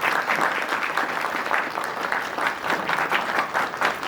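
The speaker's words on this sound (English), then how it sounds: "give a round of applause to both of our panelists" An audience applauds two panelists at the close of an evening discussion event on reasoning, with steady, dense clapping that stays loud and even throughout, without talk.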